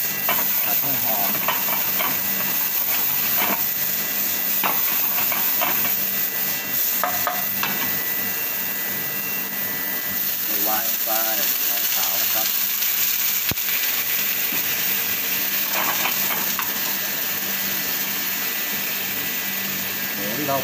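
Onion stir-fried in a pan for penne pork-ball bake, a steady sizzle and hiss with scraping stir strokes running throughout, close and fairly loud.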